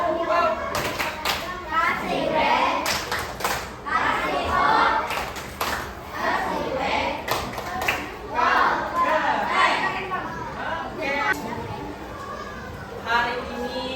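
Schoolchildren in an elementary classroom clap together in a rhythmic chant, bursts of hand claps landing in patterned groups close by, with children's voices chanting and talking along.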